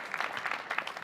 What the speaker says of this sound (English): I want to thank you and give you a round of applause